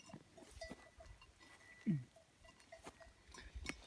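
A single Aleppo goat bleat rises briefly amid faint outdoor background noise on a highland road, with scattered small clicks and rustles around it.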